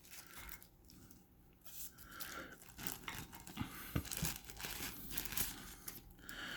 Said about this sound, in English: so we'll take the plastic off of her